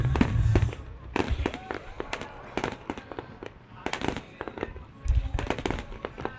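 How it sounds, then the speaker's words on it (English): Fireworks crack and pop in clustered bursts with short gaps between volleys, some deep thumps mixed in, while people talk faintly in the background. "To the fireworks."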